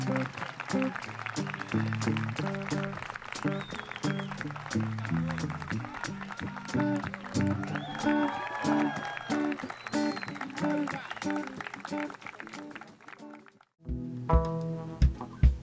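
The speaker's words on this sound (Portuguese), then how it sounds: "Vamos aplaudir o beijo dos noivos!" Wedding guests clap for the bride and groom's kiss while music with steady bass and chords plays loudly over the applause, ending in a brief pause before the music resumes.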